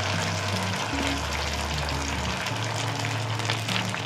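Rice chilla batter frying in hot oil in a pan, giving a steady close sizzle that holds throughout, with a low hum underneath.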